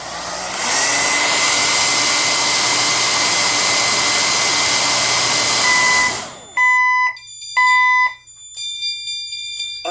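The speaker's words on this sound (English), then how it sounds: "this is a hairdryer" A hairdryer blows loudly and steadily at a heat detector for about six seconds and then stops. A fire alarm follows with two shrill tonal beeps, and a faint tone enters near the end.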